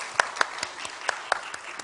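A church audience at a training service claps, with about nine sparse, separate claps spread over two seconds, fairly close and moderately loud.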